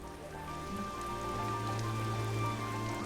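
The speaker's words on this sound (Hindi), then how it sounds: "देख नहीं रही हो कितनी बारिश है?" Heavy rain pours steadily, a dense continuous hiss and patter that swells slightly louder toward the end, with a low rumbling drone running underneath and no voices.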